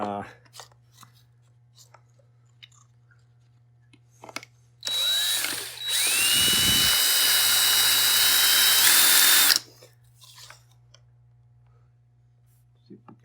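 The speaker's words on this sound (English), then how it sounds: "Let's see if we can drill these out." A power drill whines at high speed for about five seconds, grinding steadily into metal as it drills out rivets on a Wagner paint sprayer, with quiet clicks and handling noise before and after.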